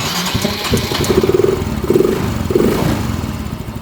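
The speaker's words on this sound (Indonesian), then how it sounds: "ini kan motor udah hidup ya, cuma nggak bisa langsam" A Yamaha Mio M3 125 motorcycle engine runs unevenly and fails to settle into an idle, its close, loud mid-pitched putter rising in a few short surges.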